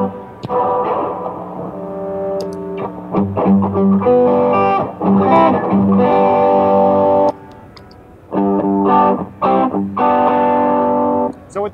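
Heavily distorted electric guitar through a Keeley high-gain overdrive pedal plays sustained chords and short riffs, thick and saturated, with brief pauses between phrases.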